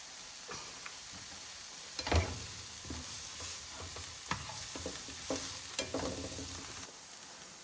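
Food sautés in a pan on an off-grid stove while cooking beef macaroni, a soft, low sizzle punctuated by repeated spoon scrapes and clinks as it's stirred, with no voices.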